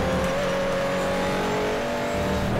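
A Porsche 911 Turbo in Game Stock Car Extreme accelerates hard out of a corner, its engine droning loud and steady at high revs while the car slides off the side of the track.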